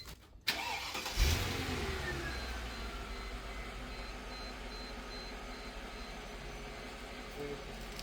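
A Mercedes SL500 V8 cranks and fires up, then settles into a steady close idle, its low rumble continuing throughout.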